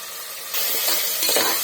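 Tomato rice masala with mint fries in oil in a pot, a soft hiss jumping to a louder, busy sizzle as stirring begins, with scraping bursts near the end.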